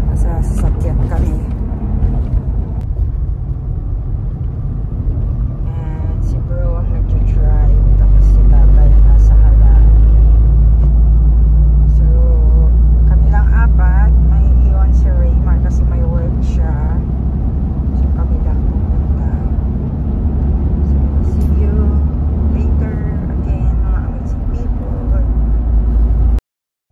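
Steady low road rumble and engine drone fill the cabin of a moving car on a trip to New Tourist spots near Santiago, swelling slightly mid-ride, with people talking over it throughout.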